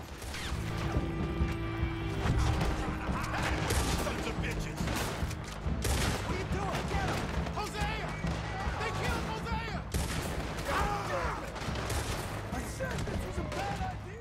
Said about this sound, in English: I shot the horse.